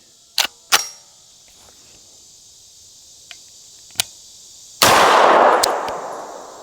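Shots from a BCA BC9 bufferless 9mm rifle: a few sharp, spaced cracks, then one louder close blast that rings out and decays over about two seconds.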